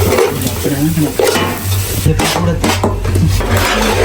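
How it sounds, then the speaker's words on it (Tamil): Cut pieces of idiyappam (string hoppers) are tossed and stirred in a hot pan, Sri Lankan style. The loud, close frying and scraping comes in rough bursts, with faint voices in the background. "கட் பண்ணி வச்சிருந்த இடியப்பம் ஃபுல்லாக போடுங்க கொஞ்சம் போட்டு போட்டு கிண்டி கிண்டி போடணும்"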